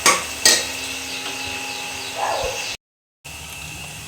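Mushroom biryani ingredients frying in a pan, a soft steady sizzle broken by a couple of sharp metallic clanks of a spoon against the pan, then a brief silent gap before the sizzle resumes.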